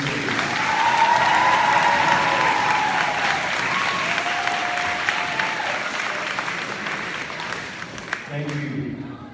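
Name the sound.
audience applause for the coaches and sponsors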